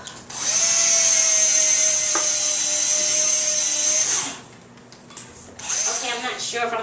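A power drill whines loudly and steadily for several seconds while boring into an apartment wall, then stops abruptly, followed by light rattling and handling noises.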